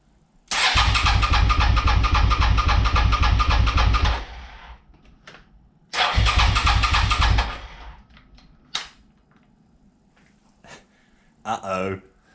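A Suzuki SV 650 motorcycle engine cranks over on the starter at full throttle for a compression test, in two loud, steady, rhythmic bursts of about three and two seconds, followed by brief clicks and a short voice.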